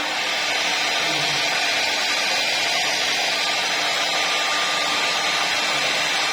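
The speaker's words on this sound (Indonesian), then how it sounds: "kita kasih kering rambut dengan hair dryer supaya rambut kita tetap terpintir ya" A hair dryer blows steadily at close range while curly hair is dried from the bottom upward, a constant loud whooshing roar with no pauses.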